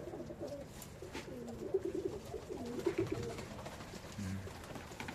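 Pigeons gather at a feeder on a spring day, their soft low cooing burbling quietly in a few phrases amid steady background noise, fairly faint overall.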